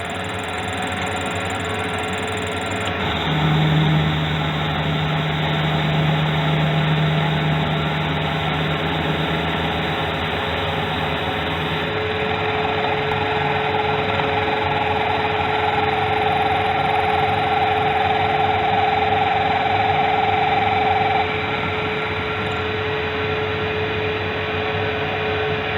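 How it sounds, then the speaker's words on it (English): A K&T 2D rotary head mill cutting metal with its head turning at half RPM: a steady, droning machine hum with a constant motor whine and a sustained tonal note shifting partway through, heard alone. "now we turn the head on, and I'm going to be running the head at 1/2 RPM."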